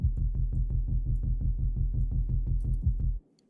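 Deep synth bass pulses thump in a steady, fast repeating rhythm for about three seconds, then stop abruptly into silence.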